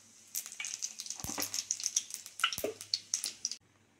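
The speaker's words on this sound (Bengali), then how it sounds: "এইবার দেবো অল্প কিছু পাঁচ ফোড়ন।" Panch phoron whole spices sizzling and crackling in hot oil in a wok for jhinge posto, a steady close fry with scattered sharp pops and spits.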